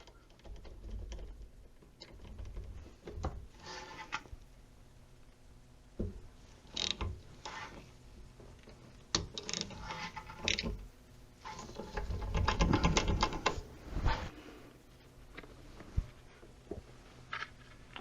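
Ratchet working an 11 mm bleeder screw loose on the rusted rear brakes of a 2008-2014 Mercedes-Benz C300 3.5L, giving scattered clicking and mechanical clatter in bursts, with a denser, louder stretch partway through.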